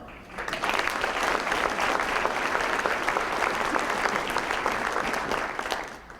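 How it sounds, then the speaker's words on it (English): An audience applauds police chief McCarthy for 20 years of service during the Orland Park State of the Village address, a dense, sustained round of clapping that swells quickly, holds steady, then tapers off. "I would like to give him another round of applause for 20 years of outstanding service"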